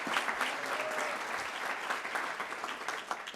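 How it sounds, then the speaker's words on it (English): A crowd claps steadily in sustained applause at a fire department promotion and achievement ceremony, a dense even patter of many hands filling the room. "a round of applause for that acknowledgement"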